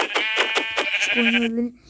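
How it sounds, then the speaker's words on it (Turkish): Sheep bleating in a Minecraft video game, a loud, close, wavering cry repeated in quick succession and followed by a lower sustained tone. "Bakın şurada koyun var."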